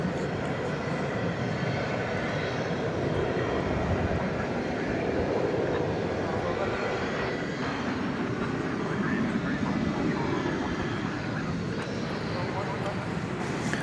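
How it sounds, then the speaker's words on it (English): A Sun Country passenger jet bound for Minneapolis roars steadily at night at DFW Airport, a broad continuous engine rumble with a voice talking over it. "There's that Sun Country plane going to Minneapolis."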